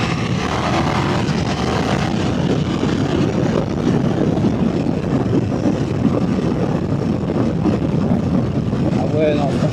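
A 2025 KTM 1390 R Duke Evo motorcycle being ridden, a continuous loud engine and wind roar with no break, a rider's voice now and then under it.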